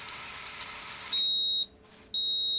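A quadcopter's onboard buzzer on an Armattan build starts beeping after the radio transmitter is switched off: a steady high hiss, then two loud, piercing electronic tones separated by a short gap, clear and close.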